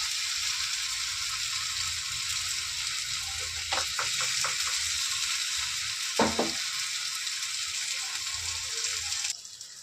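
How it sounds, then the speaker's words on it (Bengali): Ground spice paste with turmeric, Kashmiri chilli, cumin and coriander powder sizzles in hot oil in a pan, a steady loud hiss throughout with a few clinks of a spoon against the pan. "এবার এর মধ্যে আমি এই বেটে রাখা মশলাটা দিয়ে দেবো।"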